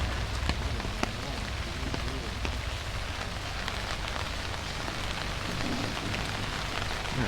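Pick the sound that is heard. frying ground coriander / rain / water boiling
rain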